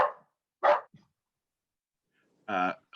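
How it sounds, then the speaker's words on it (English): A dog barks several times indoors, with sharp, close barks spaced across a few seconds, heard during a lesson with a voice nearby. "Sorry for the dog."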